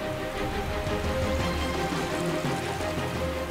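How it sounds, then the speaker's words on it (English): Steady, dense hiss of a heavy downpour at the Königssee in the German Alps, pouring without pause, loud and close, with no voices. "A heavy downpour quickly raises the water levels in the Königssee."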